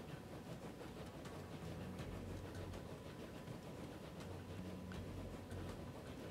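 A train rumbles steadily through a rail network in the Transport Fever video game, a low continuous rolling drone with faint rhythmic clacking, heard alone at a quiet level.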